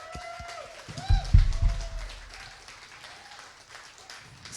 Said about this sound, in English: let's give another round of applause for that really fun song